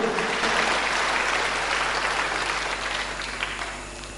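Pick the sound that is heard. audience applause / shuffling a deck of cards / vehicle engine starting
audience applause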